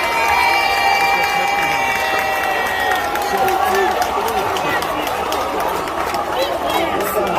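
A crowd applauds and cheers for the 34th graduating class of the Haitian National Police at their ceremony, sustained loud clapping and shouts with children's voices and chatter mixed in, while a band's tones ring over it.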